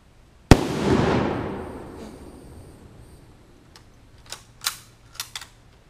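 A single loud, sharp blast from a 1939 Mosin Nagant rifle chambered in 7.62x54R, fired in a backyard, rings out and decays over about a second, followed by a few faint clicks and rattles.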